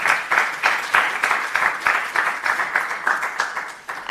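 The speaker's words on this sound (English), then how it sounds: "Please give her a wonderful round of applause." An audience at a university innovation conference applauds, a steady, dense burst of many hands clapping close and loud, holding for about four seconds with no voices.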